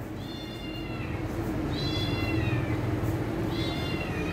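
A hungry kitten meows three times, each cry a high, drawn-out wail spaced about a second and a half apart, close by and clear over a soft background hiss.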